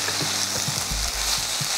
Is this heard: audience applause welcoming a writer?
no